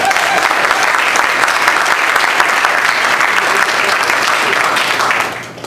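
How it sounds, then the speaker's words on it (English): Audience at a live jazz band performance applauding a string player: dense, loud, continuous clapping from a full room lasting over five seconds, then tapering off at the end. "So how about, to my left, how about a round of applause?"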